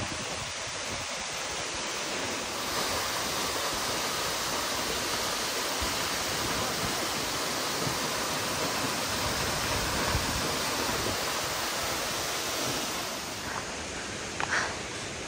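A waterfall in Laos roaring with a dense, steady rush of falling water, close and loud for the whole stretch.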